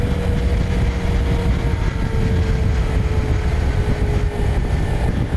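A Kawasaki Ninja 300 motorcycle on a test ride produces a loud, continuous engine drone mixed with heavy wind rush, steady throughout with a faint whining tone above.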